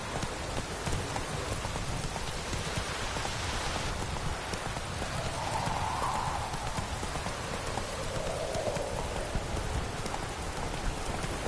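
Roach, a horse in The Witcher 3, gallops with steady clip-clop hoofbeats over a dense, rain-like wash of game ambience, loud and continuous with no talking.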